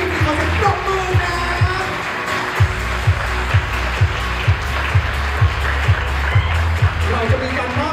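Audience applause at a press conference for a football event fills the room with steady clapping, while a regular low thumping beat and faint voices run underneath.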